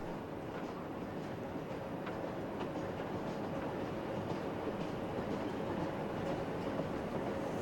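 Trains run along track in the Rail Route railway-management video game, giving a steady, dense rumble with faint clickety-clack and no speech.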